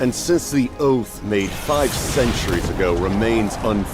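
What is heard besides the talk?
None of the usual background noises is heard.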